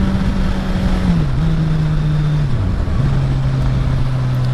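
A Suzuki GSX-R1000 K7 motorcycle being ridden with a loud exhaust gives a close, steady engine drone whose pitch dips and recovers as the rider shifts and changes speed.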